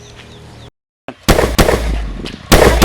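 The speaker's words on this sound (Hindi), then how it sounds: "ये अचानक हमारे ऊपर गोलियां कहाँ से चलने लगी?" Sharp, loud bangs of rapid gunfire crackling in quick succession, preceded by a short burst of music and a moment of silence.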